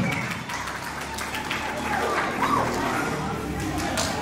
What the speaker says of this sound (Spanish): Las palmas para los familiares y para todos los presentes.